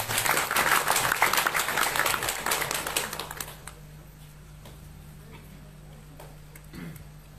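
An audience at an evening community gathering in Malang claps in a lively round of applause that fades out after a few seconds, leaving quiet room tone and a faint hum.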